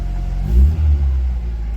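An Austin Princess car engine running at a fast idle, a deep steady low rumble with a brief swell as it revs slightly, close and loud, with no talking.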